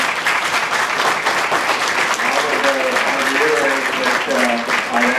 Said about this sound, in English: I asked you not to applaud at the conclusion of the comments.